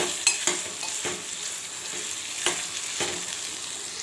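Carrot and potato pieces fry in a pan with a soft, steady sizzle as a spoon stirs them, giving a few distinct scraping clinks against the pan.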